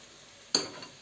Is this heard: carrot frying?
yes